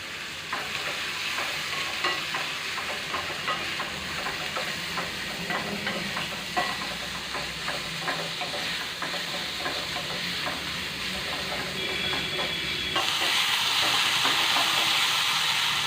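Chopped potatoes frying in a pan give a steady close sizzle, with frequent stirring scrapes and clatters throughout. The hiss grows louder and brighter near the end, and no one speaks.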